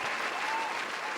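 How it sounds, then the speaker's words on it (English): Steady applause from a small group of podcast hosts cheering for Malcolm, a dense continuous patter of clapping with no pauses. "Clap it up for fucking Malcolm."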